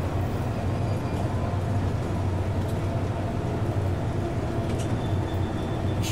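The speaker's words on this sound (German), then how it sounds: "Ich liebe diesen Zug." A Class 66 diesel locomotive in the Train Sim World game runs steadily, giving a continuous low engine drone with rolling rail noise, even and unbroken throughout, with no talk over it.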